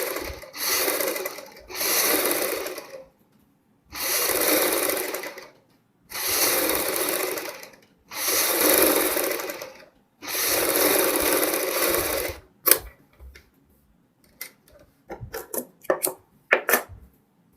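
A sewing machine runs in six steady, loud bursts of about two seconds each with short pauses between, double-stitching a kid's fancy dress, followed by scattered quieter clicks and handling noises.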